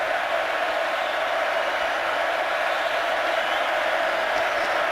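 A packed football stadium crowd roars at a college game between West Virginia and Baylor during a tense third down, a dense, steady wash of cheering and noise that holds at full level throughout.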